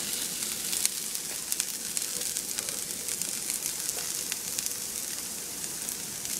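Garlic sizzles in a hot frying pan with a steady, soft crackle and scattered small pops, close up and fairly quiet, with no talking over it.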